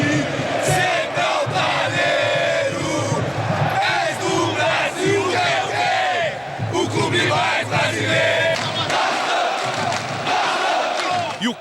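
Corinthians supporters roar and chant together in a packed stadium of about 37,000 during a Libertadores match against Vasco, a loud, dense, continuous wall of crowd voices with rhythmic surges.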